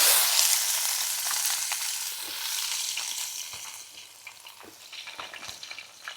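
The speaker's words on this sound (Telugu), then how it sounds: "నెక్స్ట్ ఉల్లిపాయలు వేసేద్దామండి." Sliced onions and green chillies hit hot oil in a large pot for Andhra-style pandugappa fish curry, sizzling loudly and steadily with occasional stirring scrapes as the frying eases slightly.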